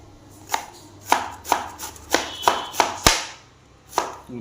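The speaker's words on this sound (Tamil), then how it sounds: "இப்போ இது எல்லாத்தையும் ஒன்றா பொடியாக கட் பண்ணிக்கலாங்க" A large knife chops bottle gourd finely on a board, about ten crisp separate chops at an uneven pace, close and clear with no talk.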